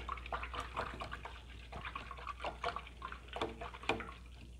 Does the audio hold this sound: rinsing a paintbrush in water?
yes